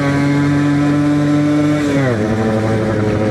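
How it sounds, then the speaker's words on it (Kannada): A Suzuki Shogun two-stroke motorcycle engine drones loud and close while riding, holding a steady buzzing pitch before dropping lower as the throttle eases, with no talking. "ರೈಡಿಂಗ್ ಎಕ್ಸ್ಪೀರಿಯನ್ಸ್ ಚೆನ್ನಾಗಿರೋದಕ್ಕೆ ಸುಮ್ಮನೆ ರೈಡ್ ಮಾಡ್ತಾ ಇದ್ದೀನಿ."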